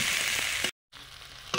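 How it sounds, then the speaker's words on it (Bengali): Potato and onion frying in a pan for a spicy chorchori: a steady, close, broadband sizzle that cuts out completely for a moment and then resumes with a brief louder stir or scrape. "আলুটা কিছুটা ভাজার পরে পেঁয়াজ দিয়েছি।"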